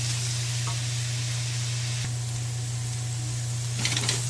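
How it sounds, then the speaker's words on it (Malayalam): Onions sautéing with salt in a pan while preparing mutton curry give a steady, soft sizzling hiss over a constant low hum, with a few faint clinks near the end. "സവാളയിൽ ഉപ്പിട്ട് വഴറ്റിയാൽ എളുപ്പം വഴറ്റി കിട്ടും"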